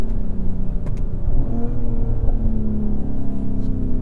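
Mercedes-AMG GLE 53 engine in Sport Plus mode heard from inside the cabin, a loud, steady low growl rising as it revs, with no speech over it.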